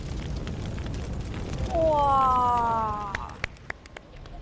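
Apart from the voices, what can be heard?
fire flaring up in a clay pot while cooking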